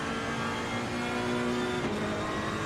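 A Ferrari race car engine at Misano in a racing video game drones steadily at high revs, a continuous tonal whine with a slight pitch shift near the end and no voices.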